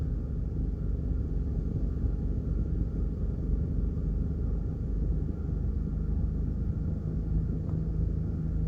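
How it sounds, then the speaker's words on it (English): Cars moving along single-lane traffic on a highway under construction on Jamaica's southern coast, heard as a steady low rumble of engines and tires close by, continuous and even with no speech. "Now you have cars coming up."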